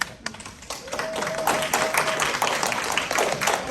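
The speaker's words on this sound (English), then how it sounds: "let's give one speaker another round of applause" Audience members at a panel conversation with a playwright give the speaker a round of applause, a close, busy patter of many hands clapping steadily for several seconds.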